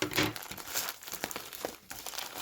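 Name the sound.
cutting packing tape with scissors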